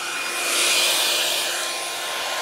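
A hair dryer blows steadily and loudly throughout, a continuous whooshing airflow with a faint whine, with no voices.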